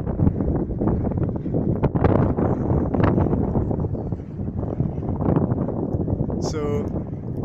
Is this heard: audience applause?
no